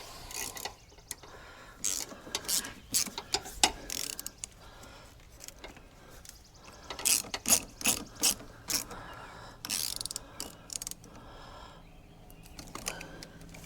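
A ratchet snugs a part back down on a 2011 Chevrolet Impala, giving irregular bursts of close clicking with short pauses between strokes.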